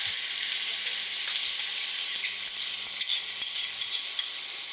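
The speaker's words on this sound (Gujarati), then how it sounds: "એ આપણે અહીંયા વઘાર કરી લઈશું અને સાતળી લઈશું." Onion, tomato, green chili and curry leaves sizzle in hot tempering oil, a continuous bright hiss with scattered small pops and clicks throughout, close and steady.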